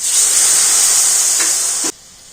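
Water splashed into a pan of hot ground turmeric, coriander and cumin bursts into a loud, steady steam hiss that holds for about two seconds before cutting off sharply into near silence.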